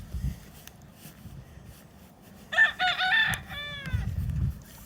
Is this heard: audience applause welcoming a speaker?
no